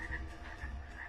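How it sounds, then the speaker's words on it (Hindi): Cartoon-style night ambience of crickets chirping, a steady run of soft, rhythmic pulsing chirps that carry on without pause and without any voices. "चारों तरफ सिर्फ झींगुरों की आवाज आ रही थी"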